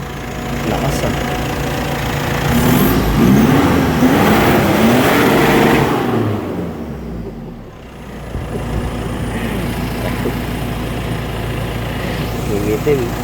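Mitsubishi Montero with a 4N15 engine running after turbo cleaning, a loud close idle that swells and rumbles for several seconds, dips briefly, then settles back to a steady drone.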